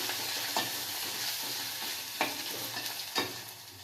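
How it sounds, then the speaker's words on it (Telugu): Onions with ginger and turmeric sizzle steadily in a pan for a potato fry, broken by a few sharp scrapes of a stirring spoon; no one speaks. "అల్లం పచ్చివాసన పోయిన తర్వాత ఆనియన్స్ కొంచెం గోల్డెన్ కలర్కి వచ్చిన తర్వాత కొంచెం పసుపు వేసుకోవాలి వేసుకొని మొత్తం ఒకసారి కలుపుకొని"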